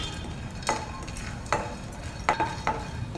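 Asafoetida roasts in a pan, a spoon giving a few sharp scrapes and taps against the metal at irregular intervals over a low, quiet background hiss.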